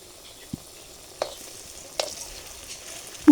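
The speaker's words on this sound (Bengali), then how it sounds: "বড়া আমার ভাজা হয়ে গেছে" Palm fruit fritters (taler bora) fry quietly in oil, giving a faint low bubbling hiss broken by a few sharp pops or clicks.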